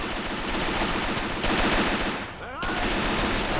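Rapid machine gun fire rattles in long, dense bursts during a Men of War: Assault Squad 2 battle, with a brief dip and a short whistling sweep before the firing resumes loudly.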